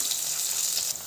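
Cumin, mustard seeds, green chillies and onion sizzle in hot oil for an Indian ivy gourd stir-fry, a steady close hiss of frying that fills the whole moment with no talk.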